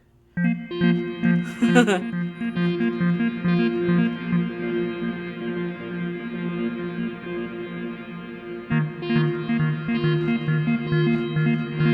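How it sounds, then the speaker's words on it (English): A sustained synthesizer chord drenched in reverb drones with shimmering, distorted effects, a bright burst of swept noise early on and a chord change partway through, loud and continuous. "So then with the reverb and everything, you get this kind of urgent breaking news."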